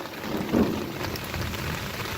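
Heavy rain pours steadily onto a backyard, a dense, continuous hiss of drops striking the ground with a brief louder swell early on, no voices.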